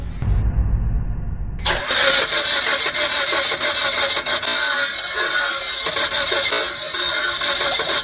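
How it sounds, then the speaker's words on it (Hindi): A Toyota Glanza or Maruti Suzuki Baleno engine with low compression after overheating cranks briefly with a low rumble, then catches into a loud, steady running roar that continues close by without a break. "जब हम क्रैंकिंग करते हैं उस टाइम पर आवाज़ आती है जैसे कि कंप्रेशन बिल्कुल डाउन हो गया।"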